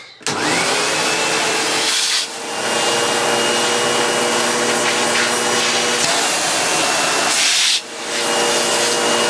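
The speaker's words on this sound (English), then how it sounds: "Let's just get another vacuum cleaner and clean off this filter." A loud vacuum cleaner drones steadily while cleaning a Dyson V6 Animal's filter, its pitch and airflow dipping twice as the nozzle is pressed against something, then roaring back.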